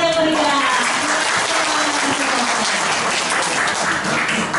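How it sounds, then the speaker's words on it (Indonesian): Hearty applause fills a seminar hall on meditation and mental health, many people clapping loudly and continuously for several seconds, with a faint voice briefly audible at the start. "tepuk tangan yang meriah"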